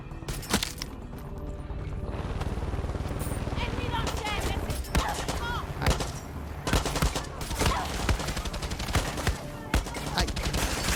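Rapid bursts of Far Cry 6 gunfire crackle continuously, loud and dense, with a person talking over the shooting throughout.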